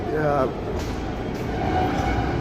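A Kolkata metro rail station at Mahatma Gandhi Road fills with a loud, steady low rumble and crowd noise, with a voice talking over it.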